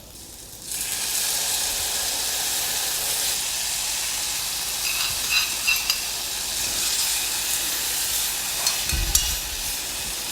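Meat juice poured into a pot of black Pardailhan turnips with garlic sets off a steady, loud sizzle and hiss, broken by a brief dull thump near the end.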